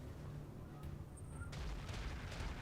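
Heavy autocannon impacts from ultra AC-20s striking a mech in the Roguetech video game, a low booming volley of several hits that grows denser and louder in the second half, with no talk.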